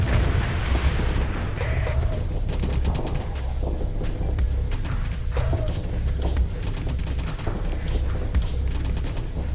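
Starsector ships trade weapons fire against a shielded Paragon, rapid repeated impacts and booming shots stacked over a constant low rumble, with brief rising whine effects mixed in.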